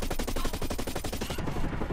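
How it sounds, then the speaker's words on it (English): Rapid, sustained automatic gunfire from a two-versus-two shooter video game, loud and dense, as shots come from both sides, with no speech. "they shot me from both sides"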